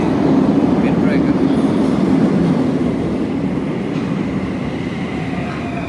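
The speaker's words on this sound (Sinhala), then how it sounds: "ඔන්න ගයිස් දැන් එනවා මේ මෙට්‍රෝ එක." A Bucharest metro train rolls into the station, a loud, steady rumble of wheels and carriages that holds close throughout, easing very slightly in the final seconds.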